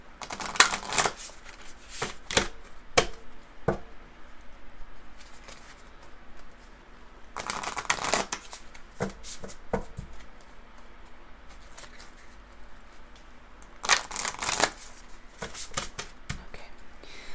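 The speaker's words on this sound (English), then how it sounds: "I also want to pull some mermaid, believe in your own magic oracle cards" Large mermaid-themed oracle cards are shuffled by hand in several bursts of crisp riffling and flapping, with quieter taps and slides in between, close up and with no talking.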